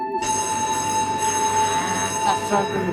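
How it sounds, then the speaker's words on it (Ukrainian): An electric bell rings continuously, a bright sustained tone that starts abruptly and holds steady, loud and close, with faint rustling underneath. "Гребаний дзвоник"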